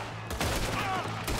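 Gunfire erupts in a shootout in the video game Red Dead Redemption 2, a loud close burst of several rapid shots over about a second and a half.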